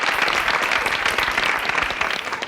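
Dense, loud applause from a hall audience at a Tamil student speech competition, a steady wash of many hands clapping for a few seconds with no pause.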